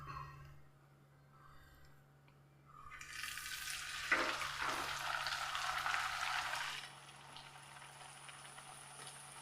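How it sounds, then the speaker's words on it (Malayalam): Puri dough dropped into hot oil, a quiet background that breaks into a loud, bubbling fry which holds for a few seconds and then settles to a softer sizzle, with no voices. "ഇനി നമുക്ക് അടുത്തത് നമുക്കൊന്ന് പൊരിച്ചെടുക്കാം"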